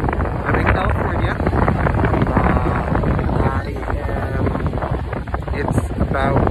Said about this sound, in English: It's a little bit windy out here, so it's a little bit hard to hear.